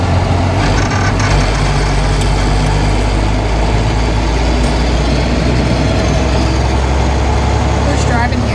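A truck engine runs steadily with a deep, constant low rumble while the driver shifts down through the gears, staying loud and close throughout as people talk over it.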